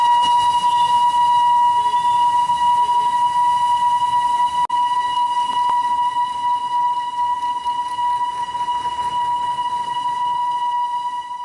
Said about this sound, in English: this nostalgic steam train experience, travelling as it does along the high streets.